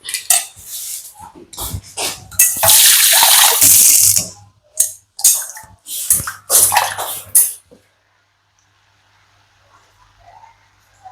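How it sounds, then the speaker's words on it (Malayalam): Water splashes and pours in uneven bursts into a pot of avial, a Kerala mixed-vegetable dish, with clinks of cookware between pours, then quiet. "ഇതിലേക്ക് കുറച്ച് വെള്ളം കൂടി കഴുകി"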